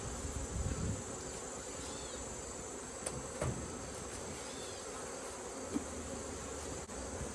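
Honey bees hum in a dense, steady buzz around an opened late-August beehive during a fall inspection, with a few faint clicks and handling knocks over the continuous drone.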